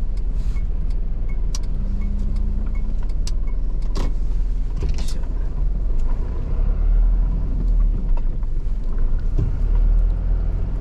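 Car driving on a narrow residential road in Japan, a steady engine and road rumble throughout with faint rattles and clicks, no talking.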